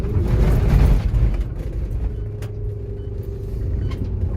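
A car with a faulty Delphi injection pump rumbles steadily while driving, a low droning engine note with a brief louder swell at the start, then an even hum and faint ticking.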